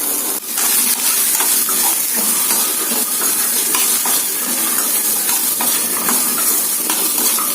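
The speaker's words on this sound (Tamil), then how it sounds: "கொஞ்சம் நல்லா வதக்கிக்கலாம்" Chopped bottle gourd sizzles with onions in a hot pan with a constant loud hiss, while a utensil scrapes and stirs them at an irregular pace.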